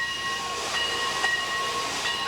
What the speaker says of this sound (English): Some are powered by steam